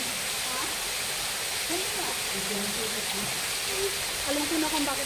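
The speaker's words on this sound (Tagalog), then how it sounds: "At may waterfalls effect pa." Spring water pours steadily from an artificial waterfall into a walled culvert, giving a constant broadband rush with some gurgling, while people talk over it at moderate level.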